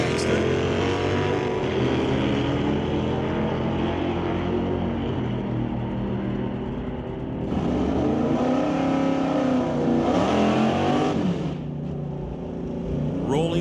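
A 1982 S10 against a 70s dragster at a bracket drag race, engines roaring loudly and steadily with a surge and dip partway through as the cars pull away, close and sustained.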